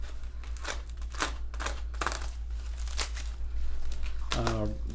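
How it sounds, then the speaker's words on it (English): Plastic packaging around a Carbon Driven carbon fiber wiper cowl for a 1994-98 Mustang crinkles and rustles in irregular close bursts, with a voice briefly near the end. "So let's get this bad boy unwrapped"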